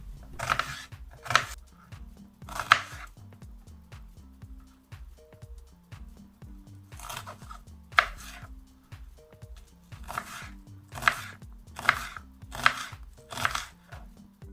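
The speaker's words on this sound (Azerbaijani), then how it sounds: "Bir ədəd soğanı xırda doğrayıram." A knife finely chops an onion on a cutting board in quick bursts of close, crisp taps, with short pauses between rounds.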